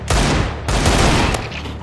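Rapid bursts of gunfire from outside in an online shooter game, several loud crackling volleys fired in quick succession without a pause, close and harsh across the whole clip.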